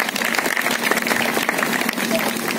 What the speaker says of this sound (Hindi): एक बार जोरदार तालियां हो जाए आप सभी की।